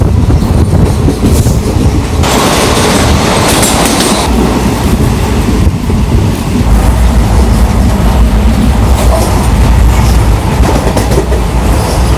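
A Konkan Railway train crossing a high bridge over a river rumbles steadily with rhythmic clattering wheels, loud and close, continuing the whole time with no voices.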